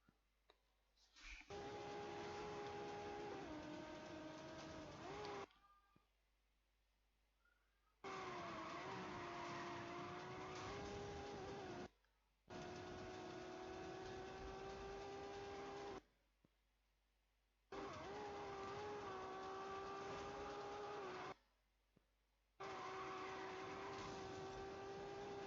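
A police car chase in Need for Speed Rivals: loud, steady engine roars run in long stretches of several seconds, broken by brief near-silent gaps, with no voices heard.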